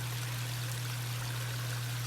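A garden turtle pond's waterfall pours steadily, a continuous close splashing wash over a constant low hum, with no voices.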